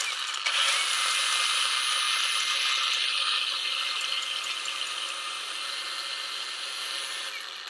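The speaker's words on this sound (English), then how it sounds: "you can see the belt moving back and forth" A VERVEWAVE WT8841 cordless band file sander runs with its belt moving, giving a steady, close, bright whirring buzz that holds for several seconds without pause or speech.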